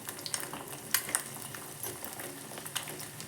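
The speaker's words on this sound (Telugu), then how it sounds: "ఇప్పుడు మనం కట్ చేసుకున్న ఉల్లిపాయలు వేసుకోవాలి." Chopped onions drop into a pan where an egg omelette is frying, giving a steady close sizzle with light scraping and clinks of a utensil.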